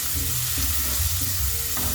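Garlic fries together with red onion that is turning brown, giving a dense, constant sizzle close up, with a faint stir near the end and no talking.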